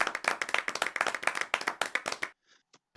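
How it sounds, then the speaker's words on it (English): Rapid clapping sound effect, a dense run of crisp close hand claps in quick rhythm that stops abruptly, followed by near silence and a couple of faint ticks. "I can put a clap in here"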